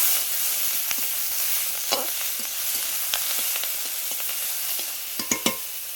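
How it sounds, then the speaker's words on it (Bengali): Steady hiss of onion and tomato frying in a pan, punctuated by sharp clicks of a spoon stirring, close and continuous without speech. "এবার টমেটোটা দিয়ে দিয়েছি, ওর সঙ্গে ভালো করে সবগুলোই ভেজে নেবো"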